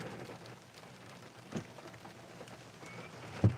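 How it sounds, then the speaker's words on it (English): Rain falls outside a car, heard from inside as a soft steady patter on the body and glass, with a couple of sharper knocks, quiet and close. "It's raining. Look at this rain."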